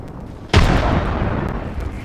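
A frag grenade detonates in a video game, one sharp loud blast whose rumbling tail fades slowly over the next second and a half.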